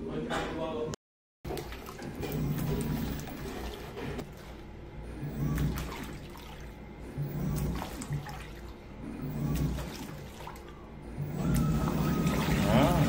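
A Panasonic washing machine showing an H57 error runs its spin cycle, a fairly faint, continuous mechanical churning and rumble with watery sloshing and a brief dropout near the start.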